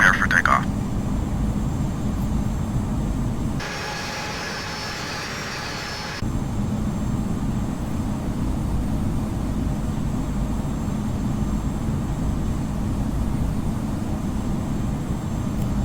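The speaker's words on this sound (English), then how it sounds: "Stansted Unicorn, Cyprus 909 is taking off runway 22, departing north" An A220 airliner takes off in Infinite Flight, a steady loud engine roar that drops away briefly before returning, with a voice talking over it.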